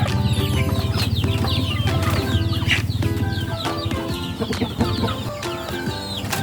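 Backyard chickens at afternoon feeding time, given coconut pulp mixed with vitamins, make loud close clucks and squawks that overlap in a busy, continuous flock chatter, with a brief flutter of wings.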